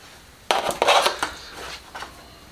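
Eggplant slices are stacked on a plate with a few close clinks and clatters of utensil against dishware, a quick cluster of knocks followed by a lighter tap, no voices.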